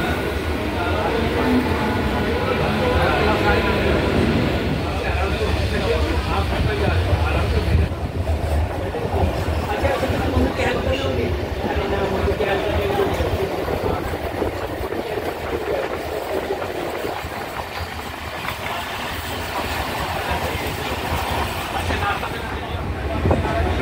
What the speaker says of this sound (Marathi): आता स्टेशन दुसरी ट्रेन जाते